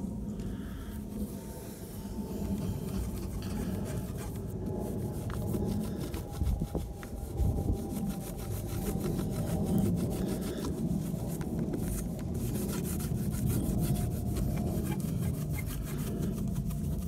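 A rag rubs scratch-removal paste (T-Cut) over a Jeep's paintwork in steady, continuous scrubbing strokes, close and fairly loud throughout with no talking.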